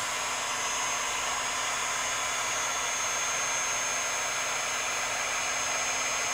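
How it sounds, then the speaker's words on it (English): A heat gun on its low temperature setting warming a shear blade, producing a constant, even blowing hiss that stays level from start to finish, with no talk. "So I'm using a heat gun, and I will use the low temperature."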